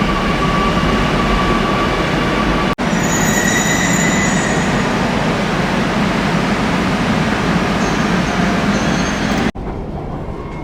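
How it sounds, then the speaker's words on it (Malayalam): A metro train pulls into a station, a loud sustained rumble with high wheel squeals and a brief hiss, continuing for about ten seconds without talk. "നമ്മളെ മെട്രോ വന്നു"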